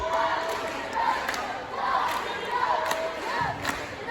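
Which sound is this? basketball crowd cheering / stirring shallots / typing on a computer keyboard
basketball crowd cheering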